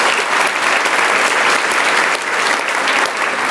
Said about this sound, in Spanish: ¿Le das un aplauso de libertad a Jesús?